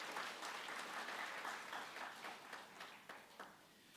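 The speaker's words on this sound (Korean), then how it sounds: "우리 오신 분들을 위해서 우리 환영의 박수 드리도록 하겠습니다" A church congregation at a Friday worship service claps in welcome, starting as a dense, moderate round and thinning toward a few scattered claps at the end.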